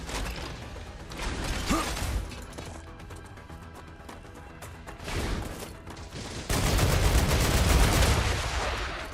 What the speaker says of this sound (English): he's shooting from far